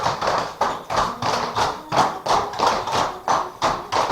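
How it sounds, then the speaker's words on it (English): Line dancing stomps and double steps on a floor during a Hillbilly Rock routine: a steady, even run of about eight thumps and shuffles in four seconds, close and clear, with no talk over them. "Stomp, double step, stomp, stomp, double step, stomp, stomp, double step, rock 1, rock 2 in."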